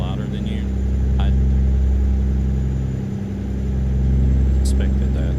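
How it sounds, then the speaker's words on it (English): A truck engine in Euro Truck Simulator 2 drones steadily at a low pitch, loud and near, swelling slightly as it pulls, with someone talking briefly over it. "the engine is louder than you"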